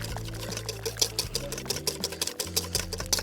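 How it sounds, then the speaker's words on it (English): Infused cream whipped by hand with a whisk while cooking outdoors for a fire-baked Guinness cake, making rapid, irregular rhythmic clicking and sloshing strokes close by, with no speech. "I'm just gonna whip it until it's nice and stiff"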